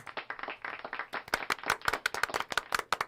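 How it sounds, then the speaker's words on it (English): Applause sound effect played on a radio live stream, starting as a soft dense patter and giving way after about a second to sharper, distinct hand claps, fairly close and moderately loud, with no talking. "I think I can find some applause."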